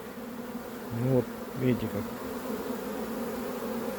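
Honey bees buzzing thickly around a bait of melted old honeycomb, a steady close hum with someone speaking briefly over it.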